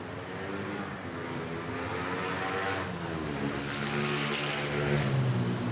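Airliner on approach at Manila airport, a steady loud engine roar with a droning propeller-like hum that builds slightly as the plane draws near, no voices.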